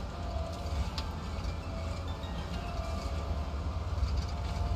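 A tram passes along a tram road as a continuous, steady rail rumble with faint clattering on top, no voices, holding an even level throughout.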